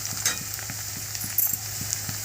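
Potatoes frying in a pan for a fasting-day khichdi give a steady close sizzle, with soft regular scrapes and stirs of a spatula ticking through it for about two seconds.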